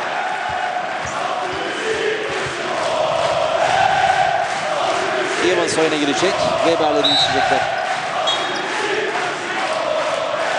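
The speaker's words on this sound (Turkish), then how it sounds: "Coşkulu Beşiktaş seyircisi tezahürata başladı." Beşiktaş fans chant in a packed arena during a EuroChallenge basketball game against BG Göttingen, a steady roar of crowd voices running throughout beneath a commentator's continuous talk.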